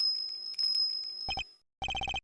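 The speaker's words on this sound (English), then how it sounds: "is that a bell around its neck? That explains the sound" A small bell tinkles on a dog's neck in Ace Attorney Investigations 2: a brief cluster of bright rings, a pause, then a quick run of evenly spaced chimes that stand out clearly.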